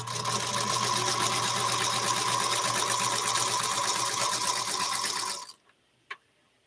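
A sewing machine stitching quilt half-square triangles on paper runs steadily with a fast, even whirring rhythm for about five seconds, then stops, followed by a faint click.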